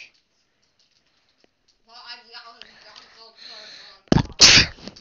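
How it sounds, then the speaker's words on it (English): A loud, sharp sneeze bursts out near the end, following a stretch of quiet and then soft background game sounds during a Roblox session. "Sneeze."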